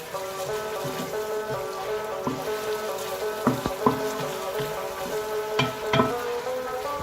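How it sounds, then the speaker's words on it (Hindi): Sliced medium onions, three of them, sizzling in half a cup of hot oil in a pan as they brown, a steady close crackle with occasional louder pops and stirring clatter, no talking. "ये देखें, ये अभी हो रहा है फ्राई।"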